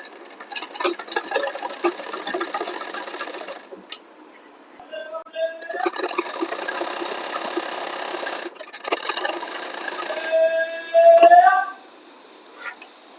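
A sewing machine stitches a lined blouse in two long, steady bursts of fast rattling whirr, close and loud, with someone talking in the pauses between them and a short squeaky scrape near the end.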